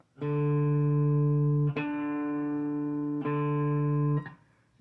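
A guitar's fourth string, tuned to D, is plucked four times in quick succession, each note bright and sustained with rich overtones, ringing out clearly and close with no voices.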